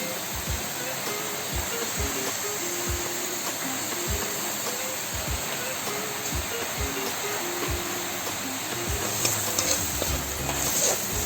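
Spice masala with turmeric and chili powder fries in a pan, a steady close sizzle with a regular rhythm of spoon or spatula scrapes running through it. The cooking continues for an extended stretch, with no talking over it.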